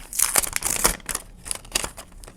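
Paper surprise packet being handled and unwrapped, a run of close crinkling, rustling and tearing bursts with brief pauses, no talking.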